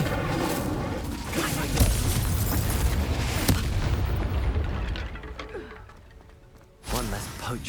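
The Incendio fire spell being cast in Hogwarts Legacy sets off loud booming, crackling blasts of flame amid combat noise, then fades before a final burst, with a voice calling out over it.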